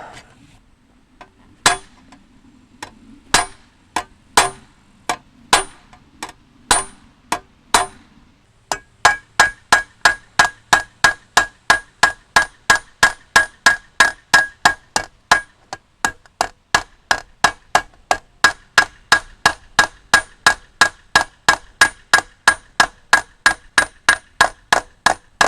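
A hammer peens a scythe blade in a metal workshop, giving sharp ringing taps, first spaced irregularly, then settling into a fast, even rhythm of ringing metallic strikes that carries on steadily.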